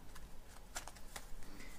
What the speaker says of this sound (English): So I'll shuffle and riffle and riffle and shuffle until the cards feel right to me